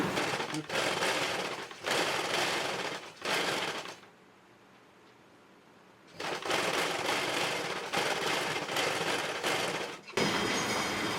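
A sewing machine stitches a seam on a blouse, running in loud, close bursts of rapid clatter, with a pause of a couple of seconds before the motor starts again.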